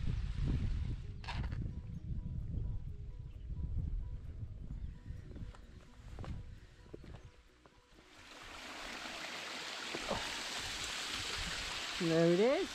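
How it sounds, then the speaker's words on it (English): A small waterfall hidden away near the top of a valley on the Long Mynd hill walk, its steady broadband rush rising up and filling the later part after footsteps and light movement, with a brief bird call near the end. "And there it is, a waterfall."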